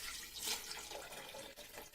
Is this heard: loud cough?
no